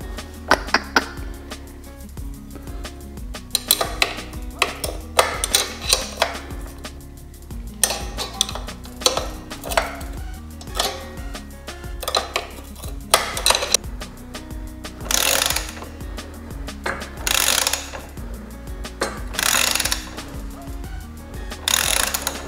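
Ratchet wrench working the sidestand bolt loose on a Suzuki DR650 motorcycle, rapid metallic clicking in repeated bursts with short pauses and clinks between strokes, close up.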